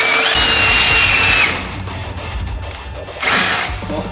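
A power drill fitted with a King Chrome drill bit whines at high pitch as it bores and reverses through steel barwork for a Hilux in a shed, cutting out and then briefly spinning again.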